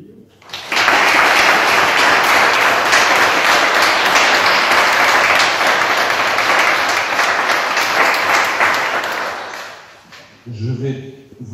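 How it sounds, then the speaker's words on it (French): Sustained, loud applause from a room full of people greets newly installed deputy mayors at a municipal council installation in Ostricourt, fading out as a voice begins speaking at the end. "On peut vous applaudir."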